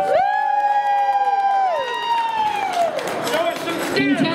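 Crowd cheering and whooping for a contestant at a 2010 Oktoberfest beer belly contest, with a strong sustained shout rising over the crowd before a broader burst of cheers and claps.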